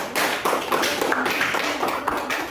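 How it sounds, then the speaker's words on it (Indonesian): Classroom students applauding group 3, a lively burst of many close, sharp hand claps at even loudness from start to end. "tepuk tangan dulu untuk kelompok 3"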